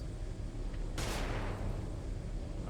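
A flashbang in the strategy game Xenonauts 2 goes off as one sharp burst about a second in, then decays over a low, steady game ambience. The blast is fairly brief and nothing else is heard.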